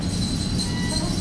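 Wheels of a railroad pushcart roll and clack over rail joints in a staged live radio-play sound effect, a steady close rumbling with rhythmic clicks and no talking.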